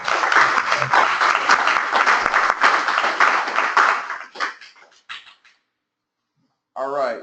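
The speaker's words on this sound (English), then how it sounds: "Let's give another round of applause" Applause after a presentation in a weekly class meeting, a brisk, close burst of clapping that thins out into a few scattered claps, falls silent, and then gives way to a voice speaking.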